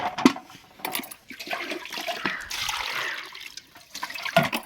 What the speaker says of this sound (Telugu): ఇప్పుడే నీళ్ళల్లో 4-5 సార్లు కడుక్కోవాలి.